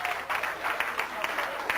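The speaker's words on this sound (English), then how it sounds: "Big round of applause." Brief, fairly faint applause from an audience at a 1992 gala night, with loose individual claps audible within the crowd noise.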